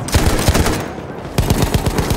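A Madsen machine gun fires on the Amiens map in a video game, loud rapid bursts of shots with a short pause before the firing resumes.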